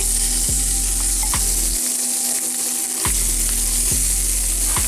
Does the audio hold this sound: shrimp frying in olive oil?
yes